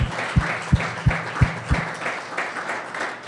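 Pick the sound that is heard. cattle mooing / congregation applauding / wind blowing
congregation applauding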